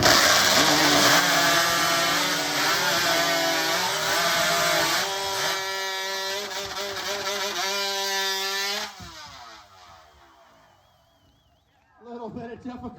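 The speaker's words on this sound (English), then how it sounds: "big smiles from Samantha Graves as she finishes off the hot saw run" A hot saw, a modified high-powered chainsaw, screams through timber at a spring wood-chopping competition, loud and close for about nine seconds before cutting out, with a crowd and announcer talking over it and a brief burst of noise near the end.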